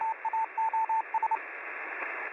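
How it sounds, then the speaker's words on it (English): Morse code keyed as a steady tone through a radio receiver during an amateur radio class, a rapid run of short and long beeps over band hiss, then the keying stops and only static remains. "Morse code."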